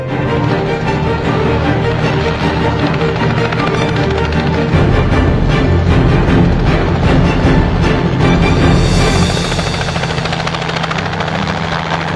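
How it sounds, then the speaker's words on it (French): A loud helicopter thrums close overhead, its rotor chop and engine roar steady and continuous throughout. "il devrait arriver par hélicoptère"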